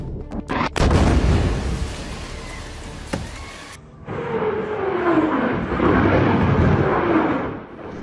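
Explosions from an Israeli bombardment in Gaza: a few sharp blasts at the start, then a sustained rumbling roar with a descending whine, like a passing aircraft or incoming projectile, loud and continuous without speech.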